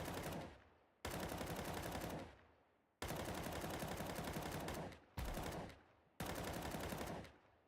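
Sustained automatic rifle fire from Counter-Strike 2, several long continuous bursts of rapid shots with brief gaps between them, loud and close, each burst ending in a short echoing tail.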